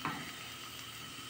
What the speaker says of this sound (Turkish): Kavuruyorum plaska için.